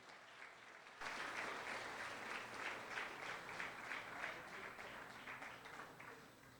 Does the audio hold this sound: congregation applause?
yes